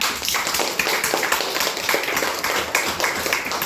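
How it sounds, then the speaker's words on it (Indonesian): A classroom of children clapping their hands together in a fast, steady rhythm, close and fairly loud, continuous throughout with no talking over it. "Tepuk tangan dulu untuk kita semua"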